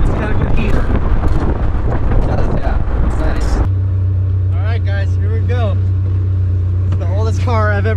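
A convertible project car drives along a road in December, with a broadband roar of wind rushing past the open top giving way to a steady low engine drone while people talk over it.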